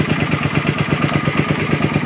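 A 2007 Suzuki M50 motorcycle engine idles after a cold start, with a steady, lumpy pulse close by and no talking.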